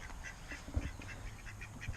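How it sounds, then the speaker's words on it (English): Ducks on a small farm quack in a quick run of short, faint calls over a quiet outdoor background. "Now, here are the ducks."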